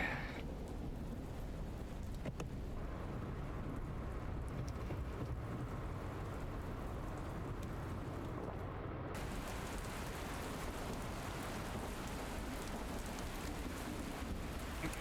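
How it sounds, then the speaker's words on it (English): Wind and rain in the video game Dustland Delivery form a steady, soft ambience of falling rain, with a faint low rumble and no voices. "Just the wind and the rain."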